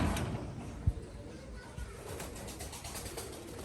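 A flock of pigeons at a loft coos faintly in the distance, with soft wing flutters and low background voices around them.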